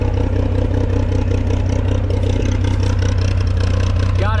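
A 1958 Lull cherry picker engine, revived after sitting for 15 years, idles roughly with a steady low throb and faint clatter, running continuously without pause.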